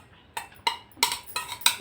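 Soaked chia seeds are spooned into a mixer jar, with five or six sharp, close clinks of a spoon against the jar spaced roughly evenly over a quiet background.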